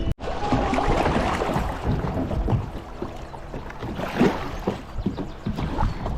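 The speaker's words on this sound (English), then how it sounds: "So I'm gonna turn around here and start paddling" A boat is paddled across open water on a spring pike-fishing outing: soft, irregular splashes and strokes close by, mixed with gusty wind buffeting the microphone, and no talking.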